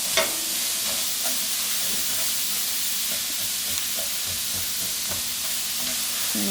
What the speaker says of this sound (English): So we're just gonna give them like a quick stir fry.